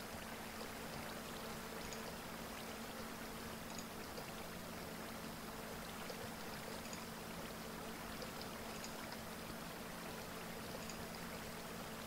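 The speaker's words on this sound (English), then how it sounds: "the water system is flowing" Water flowing through a water system in the video game DataCraft, a steady, faint rushing stream that stays even throughout, with no talking.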